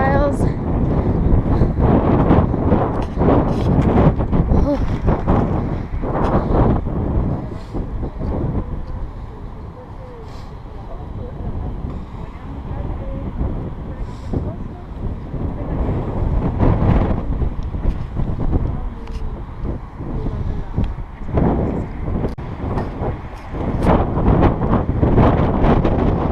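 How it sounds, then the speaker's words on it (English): Strong wind buffets the microphone on a hilltop in Edinburgh, loud gusty roaring that swells and eases throughout, with occasional speech in the background. "Very windy up here."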